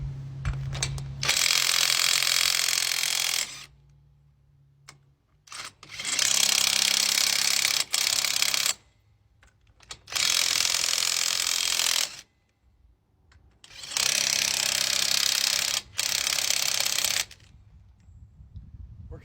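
A Taskstar cordless impact wrench with a 1.5-inch head hammers on forklift lug nuts in four loud, close bursts of rattling impacts, each lasting a couple of seconds, separated by quiet pauses.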